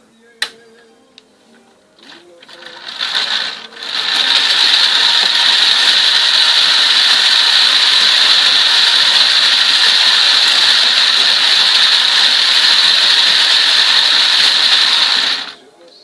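A small Lego motor whirs steadily in first gear, a loud, even high-pitched drone that starts after a couple of clicks and runs for about twelve seconds before cutting off.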